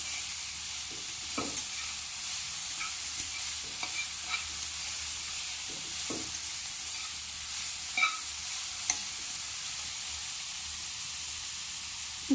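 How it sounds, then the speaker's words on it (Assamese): A potato chop mixture, with chopped beetroot added, is stirred in a frying pan over a steady sizzle and hiss. A spoon scrapes softly and irregularly against the pan, close by, with no talking. "সকলো ভালকৈ মিক্স কৰি ল'ব"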